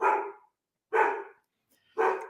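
A dog barks at a FedEx delivery man, three separate loud barks spaced about a second apart, each clear and isolated with silence between.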